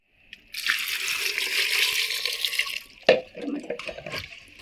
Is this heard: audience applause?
no